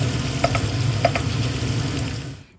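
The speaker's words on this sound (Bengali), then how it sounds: "রসুনটাকে 30 সেকেন্ড ভেজে নিয়ে তার মধ্যে গ্রেট করা আদা দিয়ে আরও 30 সেকেন্ড ভেজে নিলাম" Grated garlic and then grated ginger frying in hot oil, a steady close sizzle with a few faint utensil clicks, no talking.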